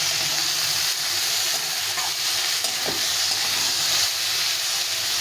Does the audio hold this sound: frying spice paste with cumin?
yes